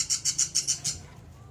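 Pet birds being fed call out in five quick, sharp, evenly spaced chirps close by, then fall silent.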